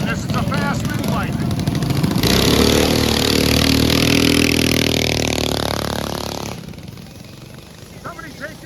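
A mini bike engine racing at an outdoor mini bike race in Symco, Wisconsin, loud and near, revving high as it passes and then fading away, with people talking over it.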